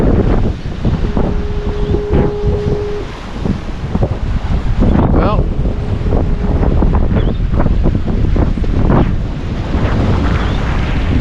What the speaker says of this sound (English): Surf's rolling in.